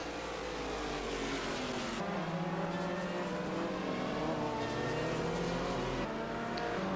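A Ferrari race car engine drones steadily in a racing video game on a busy Nürburgring track with many cars, the pitch shifting up and down through gear changes, loud and continuous without talk.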